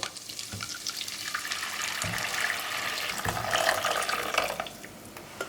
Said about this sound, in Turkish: Tariften önce hazırladığım 6 su bardağı kaynar su ekliyorum.